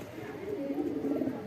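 Pet pigeons kept at home coo softly and repeatedly nearby, low rolling throaty calls overlapping one another in a continuous murmur.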